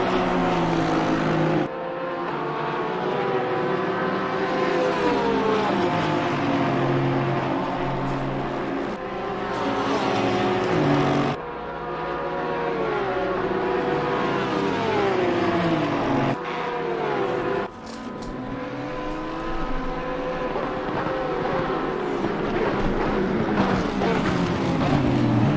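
Race cars, including a Lamborghini, scream around Spa in a loud, continuous engine roar whose pitch climbs and drops sharply at each gear change, several cars overlapping close by.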